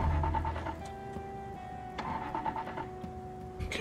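Car engine in the Project Zomboid video game cranking and failing to start, with repeated whirring starter bursts and steady mechanical tones, close and loud with no talk.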